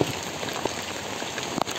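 Heavy rain from Typhoon Carina pours down steadily in a residential barangay in the Philippines, with a dense close hiss and a few sharper drips and splatters standing out.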